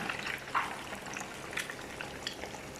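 Fish pieces fry over high heat for a fish curry, producing a faint, soft bubbling sizzle with scattered light crackles heard from a distance.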